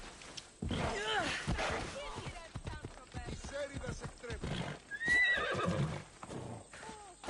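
A horse in Assassin's Creed Odyssey whinnies loudly while its hooves clip-clop at a gallop, with game voices talking over the action.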